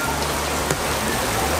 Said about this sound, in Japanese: 文字通り土砂降りじゃん。